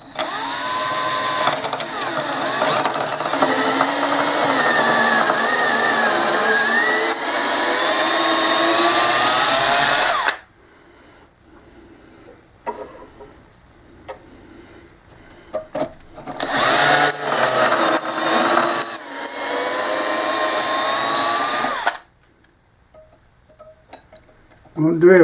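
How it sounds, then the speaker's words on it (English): Drilling a small hole with a 1/8 drill bit in a Kay Grand Auditorium guitar set in a jig: a long, steady, close motor whine, a quiet pause, then a second shorter burst of drilling. "We're going to take a 1/8 drill bit and drill a little hole down in here."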